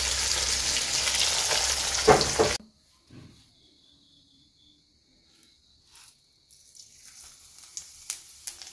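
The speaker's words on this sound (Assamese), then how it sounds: "এইফালে মাছ ফ্ৰাই চলি আছে" Climbing perch fish frying in a pan with oil gives a loud, dense sizzle for about two and a half seconds. Then it cuts abruptly to near silence, with faint scattered ticks and light background noise afterward.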